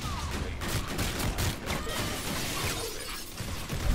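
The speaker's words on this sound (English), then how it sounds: "I threw another grenade!" Grenade blast and surrounding combat in Call of Duty Infinite Warfare, heard as a dense, loud wash of crackling bursts and shattering debris with rapid gunfire layered over it, continuous and busy from start to finish.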